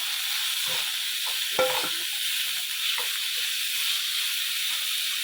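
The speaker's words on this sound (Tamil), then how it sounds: "இப்போ அதுக்கு அடுத்து இதில் தக்காளி போட்டு வதக்கணும்" Tomatoes are sautéed in a pan over a steady, hissing sizzle, broken now and then by a few soft stirring knocks. The sound stays even and moderately close, with no talking.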